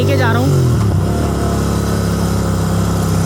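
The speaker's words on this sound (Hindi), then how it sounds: "अभी बाइक चल रही है" A Royal Enfield Continental GT 650 motorcycle is ridden along, its twin-cylinder engine loud and steady after a brief rev at the start, with a continuous low rumble and a voice talking over it.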